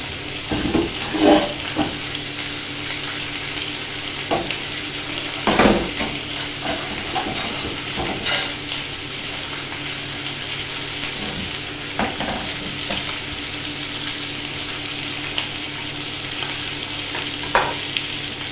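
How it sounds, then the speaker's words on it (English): Pork and bacon frying in a pan, a steady sizzling hiss running throughout with occasional louder crackles and spits, close by and with no talking. "starting to sizzle, starting to cook, you'll hear it going on to the side of you."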